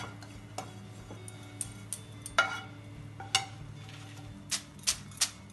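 Grated coconut dry-roasting in a pan, with scattered faint ticks and small crackles over a low steady hiss, several sharper pops standing out near the end.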